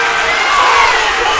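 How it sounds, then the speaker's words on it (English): A home crowd at a high school boys basketball game between Wahoo and Ashland Greenwood roars in protest after a foul call, a dense, sustained wall of shouting and jeering voices, loud and continuous. "And the Blue Jay crowd is furious."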